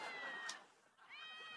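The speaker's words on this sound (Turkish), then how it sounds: "Kediler bile miyavlayarak sana katılıyorlar." Cats meow in two drawn-out, wavering cries, the first fading before a second rises, fairly clear against quiet background noise.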